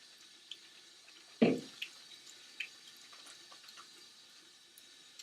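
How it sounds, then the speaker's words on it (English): Water at a bathroom sink while someone washes their face: one short splash stands out, followed by faint trickling and scattered drips, all soft and close. "go ahead and wash your face like normal"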